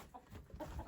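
A rooster being taken to sell gives a few faint, short clucks against quiet background noise, with no talking.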